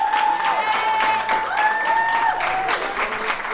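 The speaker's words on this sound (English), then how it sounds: "So keep standing, keep clapping." A standing audience at the Piesan Palooza pizza-industry gathering keeps up sustained, dense applause, with a few sustained whistle-like tones rising above the clapping.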